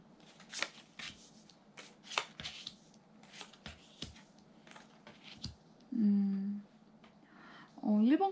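Tarot cards being shuffled and drawn, a string of crisp riffling snaps and soft slaps up close, with a voice speaking briefly toward the end.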